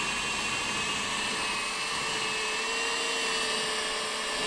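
A drill running at steady medium speed polishes a headlight on a 2006 Mazda NC Miata, a continuous whining buzz that stays close and loud throughout with no voices over it.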